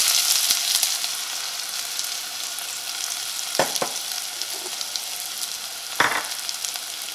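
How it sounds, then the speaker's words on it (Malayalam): Onions and coconut pieces frying in hot oil, with a steady, continuous sizzle throughout and two brief louder bursts as the mix is stirred; no talking. "ഇനി ഇതിലേക്ക് നമുക്ക് സവോളയും കൂടി ചേർത്തിട്ട് വറുത്തിട്ടെടുക്കുക"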